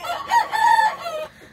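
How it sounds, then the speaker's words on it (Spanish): A Kelso gamecock rooster crows once, loud and close, a single drawn-out cock-a-doodle-doo lasting just over a second with no voices around it. "este pollo y esta polla son hijos de la pollita kelso"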